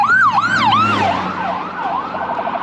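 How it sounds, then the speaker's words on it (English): An ambulance siren wails on a city street, its rising and falling sweeps loud and close at first, then shifting into a faster warble as it passes, over low traffic rumble. "Loud ambulance."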